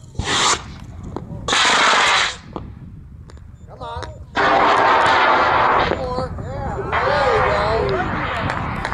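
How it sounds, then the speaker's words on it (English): A four-stage model rocket roars skyward in several loud bursts of motor noise as its stages fire, with excited voices and whoops from onlookers between and over the blasts. "we're going to put Fred's rocket skyward"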